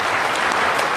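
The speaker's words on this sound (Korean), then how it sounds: "우리 감사하다는 뜻으로 박수 한번 치고" A brief, full wash of applause from a crowd at a political speech by Lee Jae-myung, dense and steady for about a second with no voices standing out.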